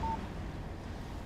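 Phone text message alert in Alan Wake Remastered: one brief, clean electronic beep at the very start, faint over a steady low ambient rumble that carries on alone.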